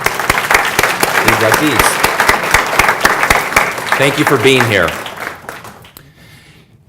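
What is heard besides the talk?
audience applauding hall of fame inductees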